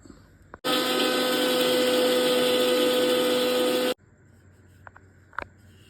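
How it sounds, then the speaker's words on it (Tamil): A mixer grinder roars loudly for about three seconds of steady blending soaked ragi, then cuts off abruptly, leaving faint clinks and taps. "இப்போ இதை மிக்ஸி ஜாரில் சேர்த்து முதல்ல கொஞ்சம் அரைச்சிட்டு அதுக்கப்புறமா தான் தண்ணி சேர்க்கணும்"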